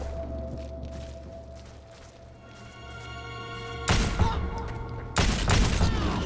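Gunfire in Wanted: Weapons of Fate on Xbox 360 (2009): a low droning hum, then two sharp, loud bursts of gunshots about a second apart, each ringing briefly.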